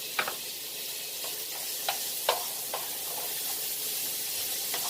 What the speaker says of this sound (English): I'm going to go ahead and add my chopped bell peppers and onions. And we want to saute this until it's almost transparent.